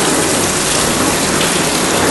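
Running water pours steadily over hands being rinsed, a loud, dense, continuous hiss and splash close by with no breaks or voices.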